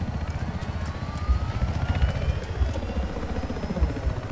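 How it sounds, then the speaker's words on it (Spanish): Helicopter in the video game Battlefield 4, a close, loud rotor thump pulsing steadily over a low engine roar with a whining turbine tone. "A ver si logramos pilotar un helicóptero."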